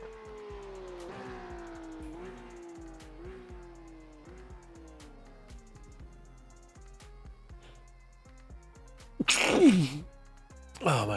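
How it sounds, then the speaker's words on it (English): A single sharp sneeze bursts out near the end, loud and close, over a steady racing-car engine drone with revving and tire sounds from a sim racing broadcast. "Oh, my apologies. I had to sneeze there."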